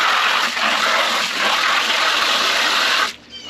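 Water pouring into a bucket before sanded grout is mixed for a kitchen backsplash, a loud continuous splashing gush for about three seconds that cuts off abruptly, close to the listener.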